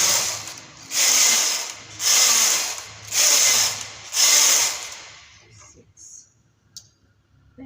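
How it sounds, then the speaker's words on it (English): A domestic knitting machine runs its carriage across rows for a small skirt, making four loud, even whirring passes with brief gaps between them, then a few quieter clicks and handling sounds. "So I'll knit 5 more rows to make it a total of 6 rows."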